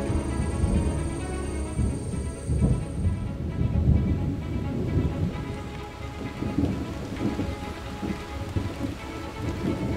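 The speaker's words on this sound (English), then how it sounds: "In the Amazon, storms hit with a fury like few other places on Earth." Heavy rain pours steadily during a thunderstorm in the Amazon rainforest, with rolling thunder rumbling low beneath the dense hiss of rain drumming on surfaces, loud and continuous throughout.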